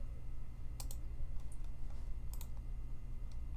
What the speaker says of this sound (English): You'll click this right here